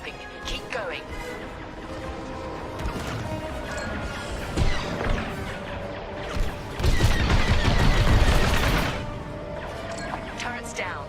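Starfighter blaster fire in Star Wars Squadrons: bursts of rapid laser shots and crashing impacts build into a loud, dense barrage, over engine hum and radio chatter.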